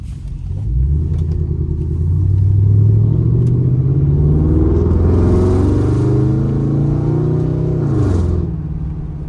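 A cold Mercury Grand Marquis engine pulls up through the revs in one rising, loud, close roar that climbs for several seconds and then drops off sharply near the end.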